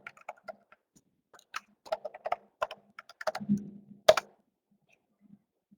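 Email address typed on a computer keyboard: sparse, close key taps in irregular clusters, a quick run of clicks then a firmer final press, with quiet gaps between and no talking.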